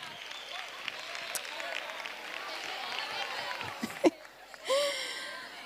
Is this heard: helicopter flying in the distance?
no